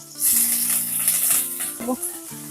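Tomato and ginger drop into hot oil with bay leaf and five-spice seeds, setting off a loud close sizzle that then crackles on steadily, with a little rattling and a low steady hum behind it.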